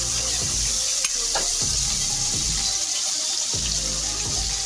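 Salted pulihora mixture being stirred in a pot, a loud continuous wet sizzle and hiss with repeated scraping strokes of the spoon coming at irregular intervals.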